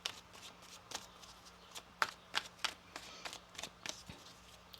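A deck of tarot cards shuffled by hand during a reading, soft riffling flicks and sharp card snaps spread irregularly through the moment, quiet and close with no voices.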